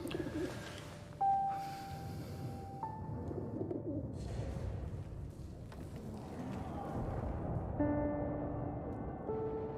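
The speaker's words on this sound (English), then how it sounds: "He found a gravely injured bird, which he nurses back to health." Soft cooing from an injured bird in the war game 11-11: Memories Retold, repeated calls heard over a low, steady game ambience with tonal music notes.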